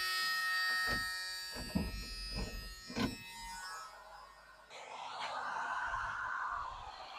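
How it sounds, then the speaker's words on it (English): A Ford F150 HVAC blower fan motor runs with a steady, faint electric whine, broken by a few soft knocks and thumps before it shifts to a broader airy rush of moving air. "That fan motor's working good."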